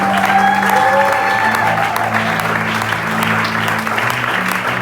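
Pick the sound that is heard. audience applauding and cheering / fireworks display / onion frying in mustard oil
audience applauding and cheering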